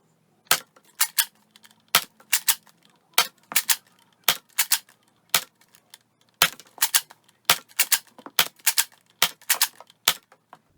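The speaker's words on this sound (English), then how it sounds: "Now we're going to fire the Accu-Rounds out of the NERF Rival Mercury." A NERF Rival Mercury blaster firing Accu-Rounds, a long run of sharp, loud, close snaps in quick irregular bursts of two and three shots, with brief gaps between the bursts.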